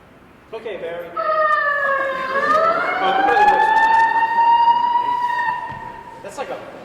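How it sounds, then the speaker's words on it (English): Police siren sound effect played during a slideshow presentation, a rising and falling wail that swells in and holds loud for several seconds before cutting off, with a short burst of noise at the end. "It goes back to the siren."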